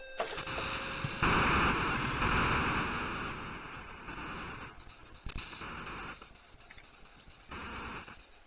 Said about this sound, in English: Fire missile.